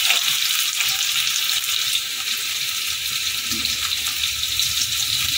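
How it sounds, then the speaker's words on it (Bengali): Pieces of taro (gathi kochu) fry lightly in hot oil with salt, giving a loud, continuous close-up sizzle that holds steady throughout with no talking. "গাঠিগুলো একটু হালকা করে ভেজে নেব"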